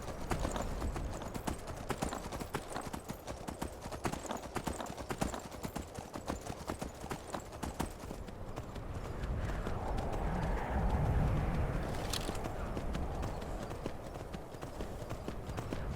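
Hooves of a horse clip-clop steadily as it is ridden in Skyrim, a continuous rapid trotting rhythm heard up close throughout, with a brief whinny-like swell partway through and no talking.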